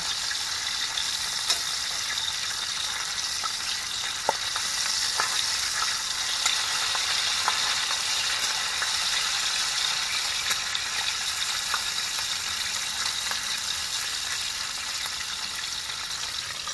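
Bacon frying in a pan gives a steady, close crackling sizzle with occasional sharper pops throughout, and no one speaks.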